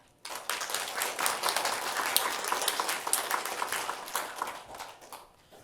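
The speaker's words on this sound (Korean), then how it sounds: "우리 한번 감사의 박수 한번 하십시다" Thankful applause from a Korean church congregation during a Sunday sermon: a dense wash of many clapping hands that starts abruptly, holds steady and loud for several seconds, then tapers off.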